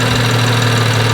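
A BMW N55 engine runs steadily at about 2000 RPM, a close, loud, even drone with a firm low hum and no breaks.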